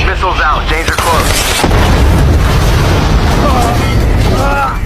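A missile explosion in a stop-motion Transformers: Age of Extinction fight scene, a loud, dense roar of blast rumble filling the whole stretch, with voices shouting over it at the start and end.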